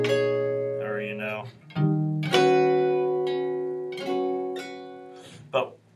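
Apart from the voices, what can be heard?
chords with tensions and extensions played as examples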